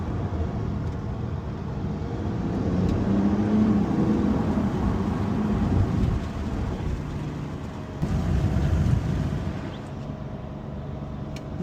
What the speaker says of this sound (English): Let's hear what some downshifts sound like.